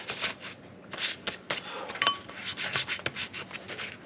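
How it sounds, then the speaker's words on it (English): Repeated rasping strokes of sanding against metal on an old V8 Ford Econoline, a rhythmic scratchy rubbing about twice a second, close and steady. "see how the corners start sanding down?"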